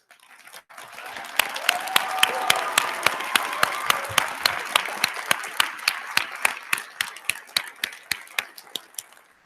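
Applause breaks out at a law school hooding ceremony for students receiving awards, starting as a thick wave of clapping that thins into a few sharp, evenly spaced claps near the end.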